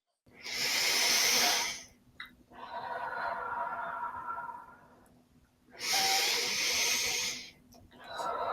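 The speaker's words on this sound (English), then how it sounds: "When you're ready, 3 big deep breaths." Three big deep breaths taken in a guided fear-facing exercise, each a long, close, loud inhale followed by a slower, softer exhale, with no talk over them.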